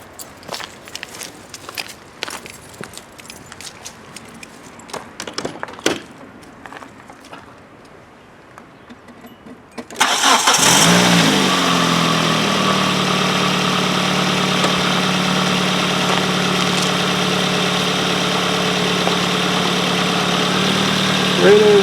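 A Hyundai Elantra engine, just fitted with a new thermostat, cranks and catches after some shuffling and footsteps, then settles into a loud, steady idle close by.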